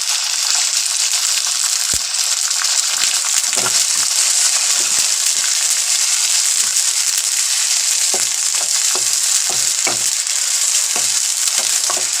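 Garlic and ginger fry in a pan for beetroot mutton curry, giving a loud, steady sizzle throughout with occasional scrape-like stirring ticks.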